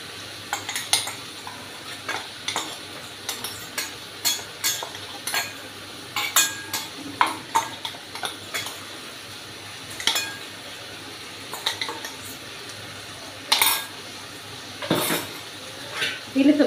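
A spoon stirs fenugreek and brinjal curry frying in a pan, giving repeated scraping strokes and sharp metallic clinks against the pan at an irregular pace over a soft background hiss.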